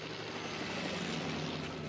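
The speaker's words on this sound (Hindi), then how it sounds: "इन हेलीकॉप्टर्स को भी अभी इसी टाइम पे आना था" Helicopters fly overhead in a Hindi-dubbed Ninja Hattori cartoon, a steady loud droning engine roar with a low rhythmic rotor hum that stays constant throughout.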